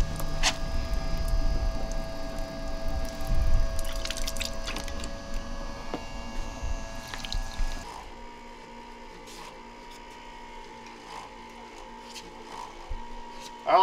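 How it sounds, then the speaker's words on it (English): A water pump on a 1996 Jeep Cherokee XJ hums and gurgles as water is drawn through into a tank, with splashing and sloshing; the churning drops off partway, leaving a quieter whir and faint drips. "it's sucking the water out of this, pumping it back into the tank"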